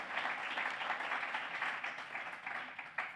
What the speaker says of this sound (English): Current and past members, let's give them a round of applause.